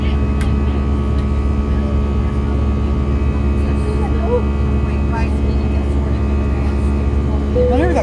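Inside an EasyJet Airbus A319 climbing after takeoff from Belfast International toward Palma, a loud, steady cabin drone of engine and airflow fills the space without letup, with faint voices in the background.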